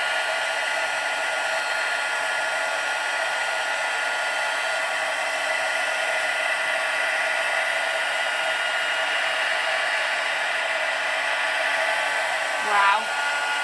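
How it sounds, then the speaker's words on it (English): A heat embossing tool runs steadily close by with a loud, even whirring hiss for the whole stretch, alone with no talking, and a brief extra rattle comes near the end. "I'm about to switch my heat tool on"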